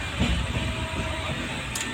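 Steady low rumble and broadband rattle from inside a moving passenger train, continuous throughout with a brief hiss near the end, no talking.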